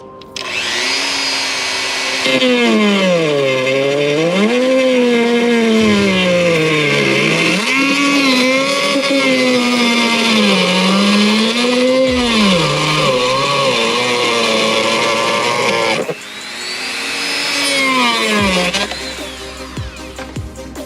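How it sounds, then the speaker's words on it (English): A Dremel rotary tool cuts material for an under-hood ice tank on a Cadillac CTS-V, whining loudly and steadily with a pitch that rises and dips as the load shifts, then stops briefly and starts again near the end. "I'm gonna bring the Dremel back out and cut some more for the tank"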